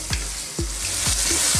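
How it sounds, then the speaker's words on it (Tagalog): Tomatoes cook in a pan with a steady close sizzle, broken by several quick rhythmic stirring or scraping strokes about half a second apart. "lulutuin lang natin ng mga ilang minuto yung kamatis"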